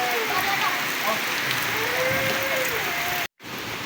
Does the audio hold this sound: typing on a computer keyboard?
no